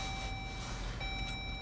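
A 2017 Chrysler Pacifica sounds its key fob warning inside the cabin, a steady electronic tone held continuously in the quiet car.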